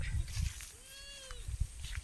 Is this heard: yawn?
no